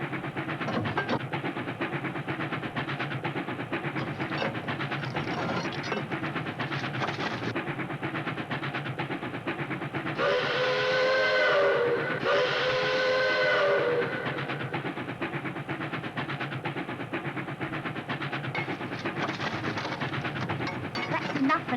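A steam locomotive running under a full head of steam, with continuous dense rumble and rhythmic chuffing throughout and a loud two-part whistle blast near the middle; voices speak faintly under the mechanical din.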